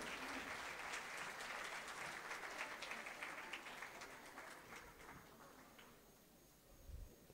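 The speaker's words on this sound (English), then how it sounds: "a round of applause for them" Applause from an audience at a national event during the Invest Somali Conference, as performers of a community song exit; dense, steady clapping that slowly thins and fades toward the end.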